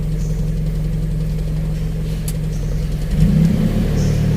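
Daihatsu Charade engine idling steadily up close, its low hum rising slightly in level and pitch near the end as the air conditioning switches on and the idle-up engages.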